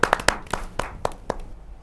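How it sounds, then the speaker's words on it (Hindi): An audience applauding with sharp, loud hand claps, crisp and close, at first in quick succession and then more sparsely, thinning out over about two seconds. "जोरदार ताली के साथ"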